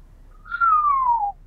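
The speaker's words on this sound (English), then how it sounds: "A low whistle escaped him." A man gives a single low whistle of amazement, a clear tone gliding slowly downward over about a second, near and alone with no talk.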